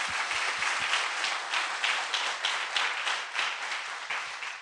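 A church congregation applauds during a Korean Sunday sermon, a broad, even wash of many hands clapping at moderate distance, continuous for several seconds without speech.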